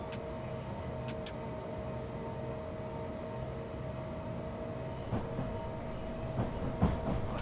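A commuter train on the Brighton to London Victoria line in Train Simulator 2020 rumbles steadily along the rails with a constant low drone and tonal hum, and a few louder clanks and rattles come near the end.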